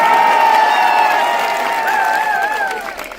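An audience at a student protest gathering claps and cheers, a dense sustained wash of applause with whoops and whistles that gradually fades toward the end.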